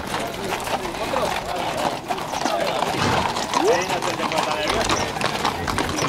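Horse hooves clip-clop steadily along a hard surface while a person talks over the top, with wind and outdoor noise behind.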